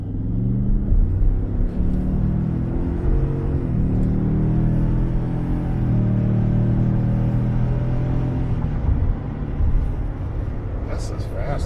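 A V6 Ford F-150 pickup launches and accelerates hard, its engine a steady loud rumble with rising tones that carries through most of the stretch, and people talk over it inside the cab.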